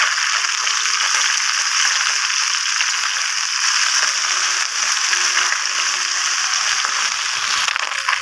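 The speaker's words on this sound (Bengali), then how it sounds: "এবার আমি উল্টিয়ে আরেকটু টাইম ভাজতে দেবো" Small mourala fish frying in hot oil for a green tomato curry, a steady loud hiss and crackle of sizzling that runs unbroken throughout, with no voices.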